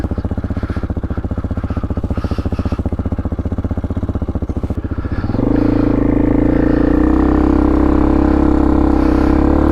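A cheap motorcycle engine sputters with a fast, uneven idle, then catches and settles into a steady, louder running drone in cold weather outdoors, close up with no talking.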